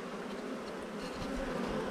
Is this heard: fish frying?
no